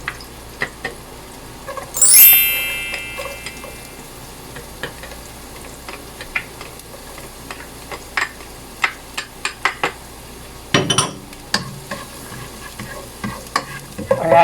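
Garlic sizzling and being stirred in a pan for kare-kare, with a sharp hiss as it hits the oil, then scattered scraping taps of a utensil and a louder clatter near the end.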